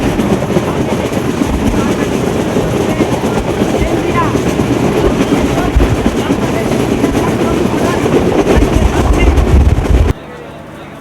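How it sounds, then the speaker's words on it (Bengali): A train pulls into Ishwardi railway station in Bangladesh, giving a loud, steady rumble with rattling carriages and some clickety-clack that runs for about ten seconds before cutting to quieter background noise. "ফাইনালি গাইস আমরা কিন্তু ঈশ্বরদী রেলওয়ে স্টেশনে এসে পৌঁছেছি"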